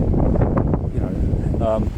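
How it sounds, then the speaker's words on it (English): Wind buffets a microphone outdoors, a steady, close, low rumble with rustling gusts that continues for the whole moment, and a brief tonal sound near the end. "obviously I know it's still windy"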